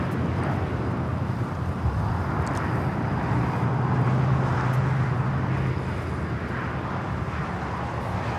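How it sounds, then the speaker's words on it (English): An Alaska Airlines Boeing 737 MAX 9 on its takeoff run at Los Angeles LAX, a steady distant jet roar with broadband rumble and light wind noise, holding fairly even throughout. "That is Alaska Airlines 1083 taking off to Seattle on the MAX 9."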